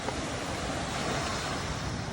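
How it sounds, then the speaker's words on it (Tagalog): Steady, rushing roar of sea waves breaking on Damasco beach in Dilasag, continuous and fairly loud with wind-like hiss and no voices. "Ito po yung dagat nila."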